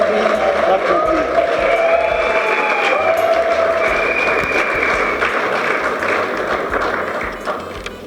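An audience in a hotel hall applauding at a ceremony, steady dense clapping that holds for several seconds before tapering off, with faint voices mixed in.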